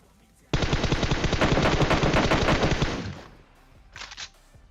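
Automatic gunfire in the PUBG Mobile battle royale game rattles out as a loud, sustained burst of about three seconds, followed by a short second burst, close and dominant.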